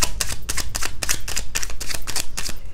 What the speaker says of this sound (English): these cards just shuffle so well